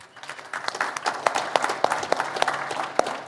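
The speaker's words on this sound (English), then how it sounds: "And thank you for applauding." An audience at the Silicon Slopes Tech Summit 2017 breaks into brisk, close applause. The clapping builds quickly and holds steady for a few seconds.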